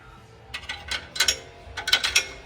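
A ratchet wrench tightens U-bolts on the rear end of a 1946 Ford, clicking in several short bursts of rapid pawl ticks, close by and fairly quiet, with no talking.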